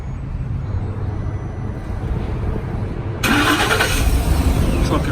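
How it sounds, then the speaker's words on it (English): A truck engine starts by remote start, turning over and catching at once, then running at a steady idle, loud and close after a few seconds of quiet background rumble. "Truck is running by remote control."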